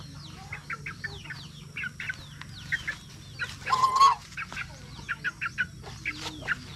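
A female goose on a farm gives short, repeated honking calls in small bursts, with a louder, harsher cluster in the middle, heard at moderate distance over a low steady background hum.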